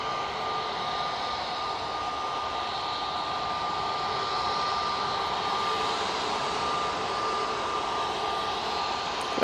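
A Boeing Dreamliner jet at Manchester Airport gives off a steady, broad engine roar with a constant whine running throughout, fairly distant and unbroken.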